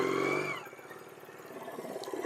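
A Honda CB 400 II motorcycle with twin carburetors pulls away, its engine giving a close, steady, throbbing rumble that fades slightly and then builds again.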